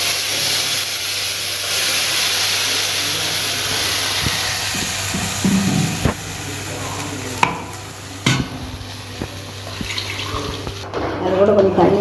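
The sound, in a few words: chutney poured into hot tempering, sizzling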